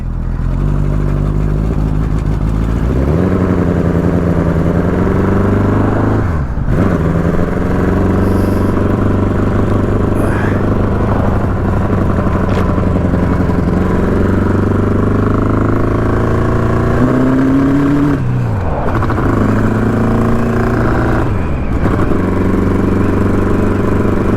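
A 1983 Honda CB1000 Custom motorcycle on a short test ride, its engine droning loudly and steadily with repeated rises in pitch through the gears and dips between shifts, heard up close throughout.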